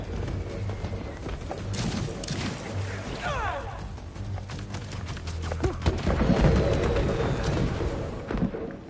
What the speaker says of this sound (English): Wait, those fireworks are lit?